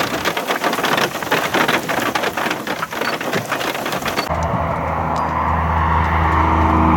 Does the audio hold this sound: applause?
no